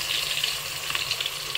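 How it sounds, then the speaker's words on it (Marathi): Onion dropped into hot oil, a bright crackling sizzle with scattered pops, close and steady for a moment, no talk over it. "मी ते आपला कांदा टाकून घेते"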